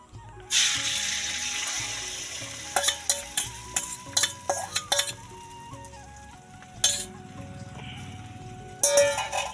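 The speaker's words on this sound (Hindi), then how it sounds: "प्रथमे कड़े तेल देकी आमर अंडा को आग भाजवा।" An egg fries in hot oil in a kadai, a loud hiss that starts abruptly and carries on under a run of quick metallic clinks and scrapes from a spatula, fading briefly before flaring up again.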